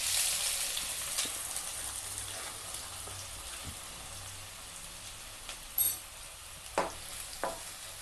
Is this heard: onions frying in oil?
yes